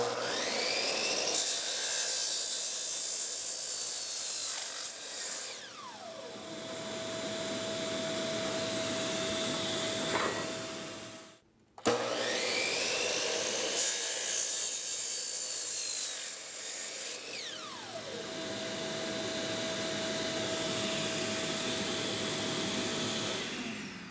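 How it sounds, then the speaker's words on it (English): Two long, loud passes of a chop saw with a carbide blade cutting through a metal handlebar, each around ten seconds, separated by a brief silence; close by, no talking. "this cuts beautifully just with a carbide blade at the chop saw"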